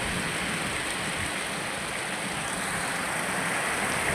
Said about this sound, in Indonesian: Deras sekali hujannya.